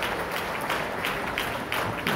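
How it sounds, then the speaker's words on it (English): Steady audience applause at a Florida truck driving competition awards in Daytona Beach, continuous clapping at moderate volume with a few louder bursts, heard alone without speech. "Please give them a round of applause"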